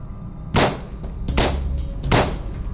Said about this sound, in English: Gunshots? What?